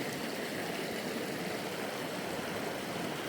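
A creek beside a Colorado campsite rushes in a steady, broadband hiss of flowing water, continuous and even, with no voices or other noises.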